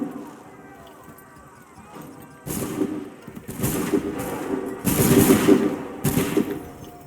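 Volleys of musket gunfire in Assassin's Creed III erupt after a quiet start, with several dense, crackling bursts in quick succession that grow louder toward the end over a low background rumble.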